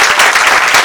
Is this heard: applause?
yes